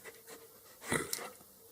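A dog pants close by in short, quick breathy bursts that build to a louder huff near the middle of the brief moment before fading.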